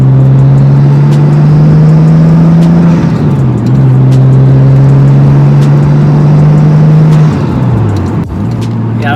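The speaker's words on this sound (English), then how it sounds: "let me do a third gear pull" A Nissan Skyline R33 fitted with an air intake adapter pulls hard in third gear, its engine droning and rising loudly and close for several seconds, with two brief dips in pitch as the pull continues.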